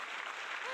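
A small audience claps together in a short, steady burst at moderate loudness, with no voices over it.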